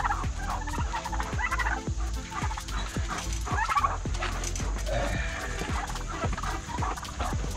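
Several turkeys gobble repeatedly in loud, overlapping bursts close by, with farmyard background noise throughout.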